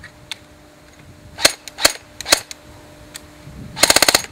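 A G&G TGM A4 airsoft rifle with pneumatic blowback fires a few sharp single shots, then a fast rattling burst near the end, loud and close with nobody talking.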